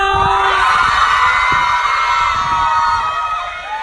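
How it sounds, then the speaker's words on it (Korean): Female students at Baehwa Women's University cheer and scream for film actors at a school event, a loud sustained crowd of high-pitched shouts and whoops that eases slightly near the end, with a brief voice in the mix. "우리 배화여대 학생 여러분들의 환호성 드리도록 하겠습니다"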